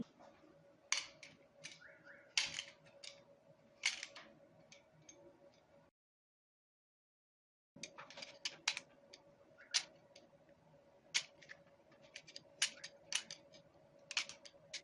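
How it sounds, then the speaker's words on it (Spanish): A utility knife strips insulation from electrical cable in repeated short, sharp scraping clicks and cuts, close and fairly quiet, with a silent gap partway through. "vamos a pelar el cable"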